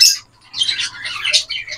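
Parakeets in a breeding colony give a run of harsh, shrill squawks in close bursts, with a short quiet gap early on and the calls resuming loudly and overlapping.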